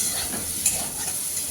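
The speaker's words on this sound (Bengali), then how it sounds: "সবজিগুলো প্রায় ভাজা হয়ে গেছে।" Cabbage and other vegetables sizzle steadily in a hot pan while being stirred, a dense continuous frying hiss with a brief louder scrape midway, close and without talk.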